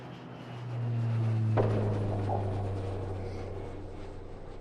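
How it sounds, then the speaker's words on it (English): A plane touching down in Portland, Maine, a low steady engine drone that swells and then slowly fades, with a sharp thump partway through; no talk. "The plane touches down in Portland, Maine."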